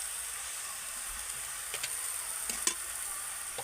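Vegetables including bitter gourd and eggplant fry in spice masala for shukto, giving a steady soft sizzle while a spoon scrapes and stirs with a few light clicks against the pan, close by and without talk.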